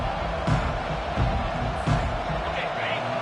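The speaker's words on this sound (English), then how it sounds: "Listen to the crowd energy here in the early going." A football stadium crowd during a WVU at UCF game keeps up a steady roar, with a few swelling surges and thuds under it. A commentator talks over the noise.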